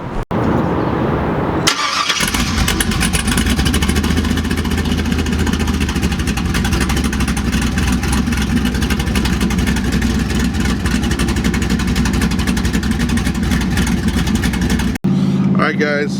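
An LS V8-swapped Jeep Wrangler engine fires up and drones loudly at steady revs for the length of a ride, a heavy unbroken rumble that cuts off sharply near the end.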